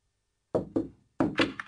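Four knocks on a door in two quick pairs, close and distinct, the second pair followed by a lighter tap.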